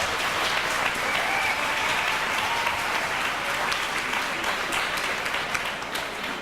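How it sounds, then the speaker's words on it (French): A crowd at a coronation barbecue gives the organizing committee a hearty round of applause, dense and even clapping that holds steady throughout. "Je demanderai une bonne main d'applaudissements."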